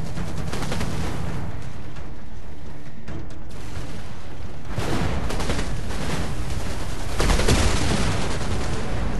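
Rapid gunfire and booms hit a vehicle in Anno 2070, loud sustained volleys that thin out briefly before surging back heavier toward the end.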